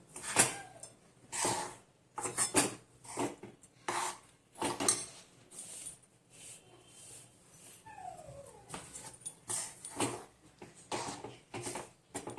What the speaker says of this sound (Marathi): यामध्येच आपल्याला हे मिश्रण ओतायचं आहे हलवून घ्यायचं आहे